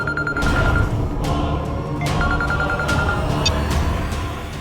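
A telephone rings in a repeated electronic trill in a Hindi drama scene, sounding in bursts over background music and ambience.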